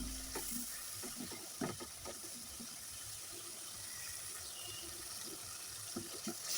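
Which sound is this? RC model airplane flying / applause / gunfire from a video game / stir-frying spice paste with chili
stir-frying spice paste with chili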